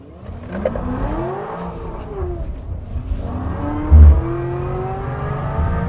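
A Tesla Model S Plaid launches on a drag run, its electric drivetrain rising in a climbing whine that sweeps upward twice, loud and close, with a brief thump partway through and no talk.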